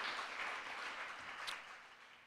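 Audience at a poetry reading gives steady, dense applause from many hands, fairly distant and gradually fading toward the end, with no talk over it.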